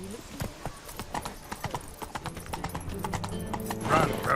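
Roach, a horse in The Witcher 3, gallops with a steady rapid clip-clop of hooves, mixed with game music and a brief whinny near the end, while a voice speaks over it.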